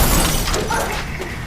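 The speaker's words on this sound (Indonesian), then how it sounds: "Dia menggunakan bagian belakang senter untuk memecahkan kaca." Glass window smashed with the back of a flashlight to get through a locked door, a single loud shattering crash with broken glass spilling and crunching, heavy and close, no voices.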